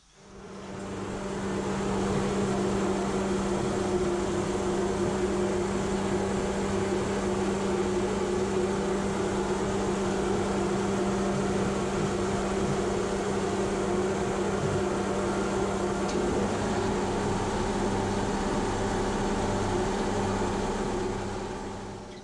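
A hydroblasting cabinet runs steadily while cleaning a factory Grand Prix cylinder head, giving a continuous loud hiss and hum with a low drone that barely changes throughout.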